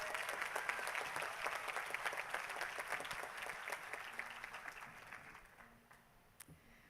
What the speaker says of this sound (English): Let's give them a hand of applause, even though they're not here